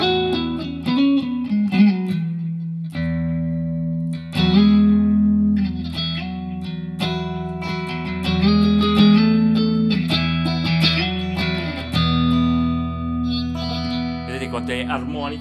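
Electric guitar run through three effect pedals with the tone knob opened up and the volume slightly lowered, playing loud sustained chords and bluesy licks with distortion and reverb, continuous throughout.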